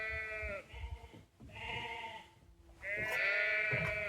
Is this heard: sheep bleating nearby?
yes